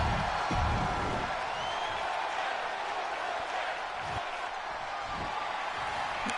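Arena crowd in the WWE 2K22 wrestling video game roaring and cheering steadily throughout, a dense, constant wash of noise with some low thumps early on.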